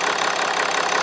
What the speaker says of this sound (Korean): 엔진 소리 좋네.